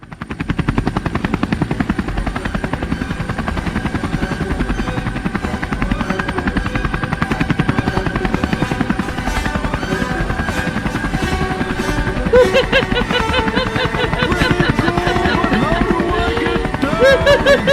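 Helicopter Beard spell in a video game, a steady whirring rotor buzz that runs loud and continuous from start to finish, with game sounds and chatter layered over it toward the end.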